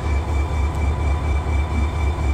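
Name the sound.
Norfolk Southern freight train with tank cars passing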